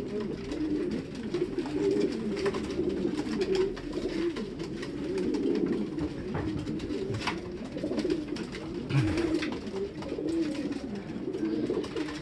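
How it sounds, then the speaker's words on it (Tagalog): A flock of two-year-old racing pigeons coos continuously at close range on loading day, their low, throaty calls overlapping in a steady murmur, with someone speaking quietly. "Itong mga old bird natin, mga 2 years old."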